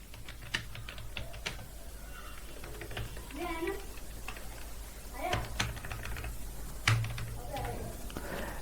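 C++ code being typed on a computer keyboard, a run of close, irregular key clicks with brief pauses, under someone speaking Hindi.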